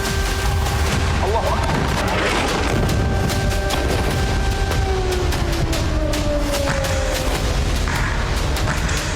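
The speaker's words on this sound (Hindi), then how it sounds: "गाजा में धमाके पर धमाके" Repeated booming blasts and crackling bursts in Gaza, mixed with wailing siren tones gliding through the background, forming a continuous loud, chaotic din with faint voices underneath.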